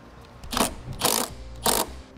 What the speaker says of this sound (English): reinstall the nut.